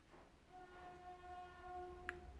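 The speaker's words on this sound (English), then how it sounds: "Excuse the train, so sorry." A train passes at a distance, its faint horn holding a sustained tone over low rumble, with a brief click near the end.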